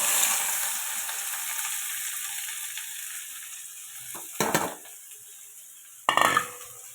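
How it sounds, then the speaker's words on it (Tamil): Onions frying in hot oil, a strong hiss that fades gradually, broken by two brief louder bursts of crackling and clatter as the pan is stirred, close by and without speech. "இப்போ ஆனியனை எண்ணெயில் போட்டுடணும்"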